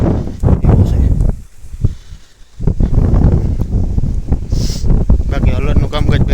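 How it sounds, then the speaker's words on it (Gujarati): Strong cold wind on a farm in a Gujarat village, buffeting the microphone in loud, gusty roars that ease briefly in the middle, with someone talking throughout. "અને પવન ભાઈ ઠંડીનો જોરદાર"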